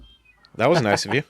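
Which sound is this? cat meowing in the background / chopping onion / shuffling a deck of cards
cat meowing in the background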